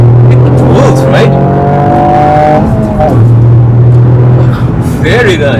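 A 2020 Toyota GR Yaris Morizo Selection engine rises in pitch as the car pulls hard after a quick downshift, heard from inside the cabin, steady and loud with a brief gear change midway, while a person talks over it.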